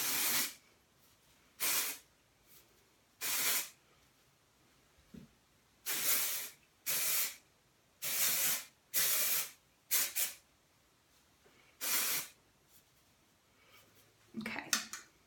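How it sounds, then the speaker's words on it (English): Dry shampoo sprayed onto unwashed long hair in a series of short aerosol bursts, about a dozen sharp hissing blasts with brief pauses, close and loud, with no talking. "the first thing that I'm gonna do is coat my hair with dry shampoo"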